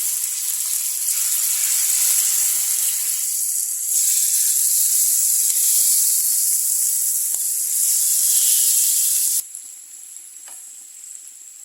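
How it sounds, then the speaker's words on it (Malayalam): Squid frying in hot coconut oil, a loud, dense, continuous sizzle and hiss close by that holds steady for several seconds, then drops abruptly to a quieter crackle near the end, with no talking. "എണ്ണ നന്നായിട്ട് ചൂടായി വന്നിട്ടുണ്ട് ഇതിലേക്ക് നമുക്ക് കൽപ്പാൻ ഇട്ട് കൊടുക്കാം"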